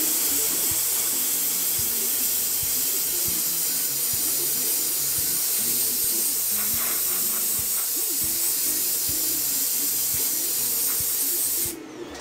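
Alclad stainless steel lacquer finish sprayed from an airbrush onto Plastidip-coated cosplay foam, a steady close hiss that runs unbroken for about twelve seconds and cuts off sharply at the end.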